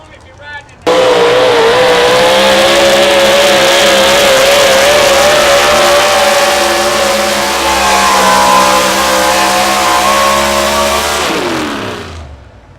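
A modified 4x4 pulling truck roars at full throttle along a pulling track in Wisner, Nebraska, a loud, sustained high-revving engine note that starts abruptly, holds for about ten seconds and then winds down, with an announcer talking over it.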